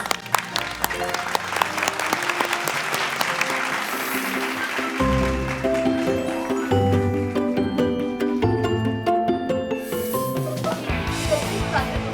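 Applause fills the whole stretch, a steady studio audience clapping at a children's TV quiz show, over loud music with a thumping beat, no one speaking.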